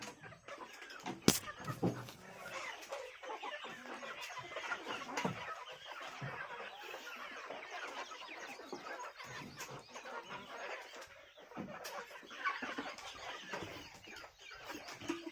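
Chickens clucking softly in a flock with a black rooster, scattered low calls and one sharp louder squawk early on, fairly faint and without speech.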